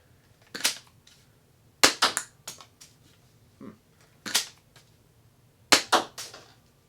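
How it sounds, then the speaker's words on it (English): A Nerf Modulus Barrelstrike blaster firing foam darts, sharp snapping shots in several quick bursts of two or three with pauses between, close and fairly loud, with no talk. "I'm going to point this way and we're going to shoot off a few shots."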